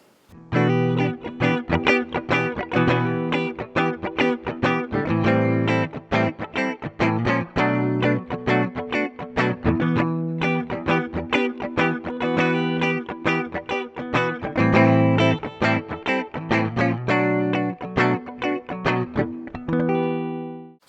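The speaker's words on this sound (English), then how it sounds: "So that tape option there just kind of brings the mid-range forward a little bit." An electric bass with warm tape saturation plays a busy, punchy riff of rapid plucked notes throughout, thick and forward in the midrange.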